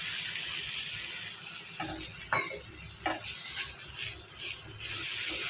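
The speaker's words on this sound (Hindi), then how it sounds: "मुझे फील हो रहा है कि थोड़ा पानी डालना चाहिए" Water goes into gram flour frying in a pan, and the steady sizzle is interrupted by a splash and scraping stirs, close and fairly quiet, with no voices.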